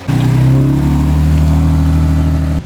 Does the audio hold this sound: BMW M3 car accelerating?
yes